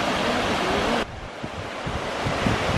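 Water pours down at the Oklahoma waterfalls as a steady broadband rush close by, with a sudden drop in the high hiss partway through and low wind buffeting the microphone, no voices.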